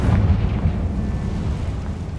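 Fiery Confringo spell explosion in the video game Hogwarts Legacy, a heavy, close booming blast with deep rumble that fills the whole moment and rolls on without a break.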